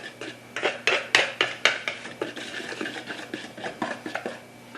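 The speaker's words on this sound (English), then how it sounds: "Just kind of whisk that salt in there, get a good mix on it" Whisk clattering against a bowl while salt is stirred into yeast and sugar water for pizza dough, a close series of rhythmic metallic taps and scrapes with no talk.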